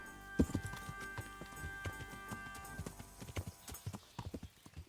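Horse hooves clip-clop at a steady walking rhythm in the video game Kingdom Come Deliverance, close and clear, with a short whinny near the start and no talking.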